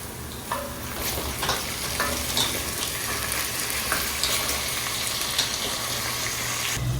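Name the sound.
frying carrots in a pan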